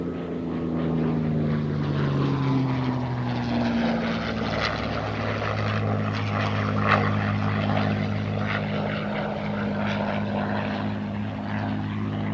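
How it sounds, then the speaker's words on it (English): A P-51 Mustang fighter plane performs a four-point roll, its propeller engine giving a loud, steady drone whose pitch sweeps and shifts as the aircraft passes, continuous throughout with no talk. "And now from your left, a 4-point roll in the P-51 Mustang."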